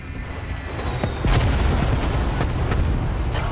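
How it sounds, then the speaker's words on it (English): Incoming Hellstorm airstrike in a video game: a rising rumble breaks into a series of heavy, close booms and blasts that keep rolling and thudding to the end. "Hostile Hellstorm inbound."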